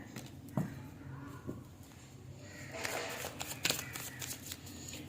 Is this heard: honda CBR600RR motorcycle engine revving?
no